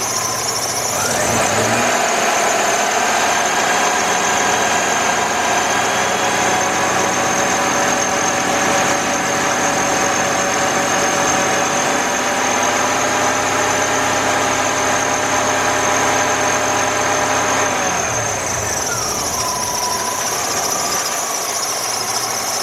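A 2003 Jeep Liberty engine idles and is revved while warming up, a steady close drone with a strong high-pitched whine on top, rising briefly and then settling back toward idle near the end.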